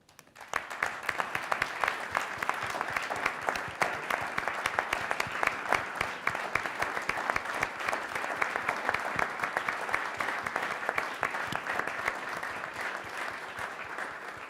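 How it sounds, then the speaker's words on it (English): A large audience gives sustained applause at a workforce pledge event, dense steady clapping filling the room for the whole stretch without pause, with no talk over it. "we'd love to give you a round of applause"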